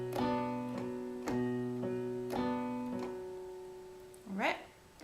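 A piano note sounded by the thumb, D, with a few other tones struck in a slow repeating pattern of sustained, ringing notes, alone and close.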